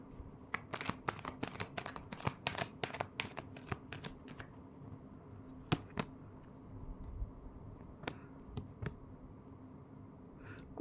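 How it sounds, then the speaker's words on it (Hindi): Tarot cards being shuffled close up, a quick burst of crisp riffling snaps for about five seconds, then scattered single card flicks over a quiet room hum, with no talking. "Last shuffle."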